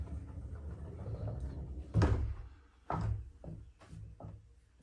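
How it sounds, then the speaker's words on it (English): A sliding barn door in a restored back room rolls and thuds: a quiet rumble, then a sharp knock near the two-second mark, followed by several softer bumps and scrapes, close and alone. "And here we have the barn, sliding barn door."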